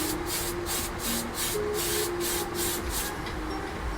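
An airbrush sprays paint in a steady hiss onto a 1/48 scale F-4D/B Phantom model kit, pulsing as the spray is passed back and forth, with a faint tonal hum underneath and no talk.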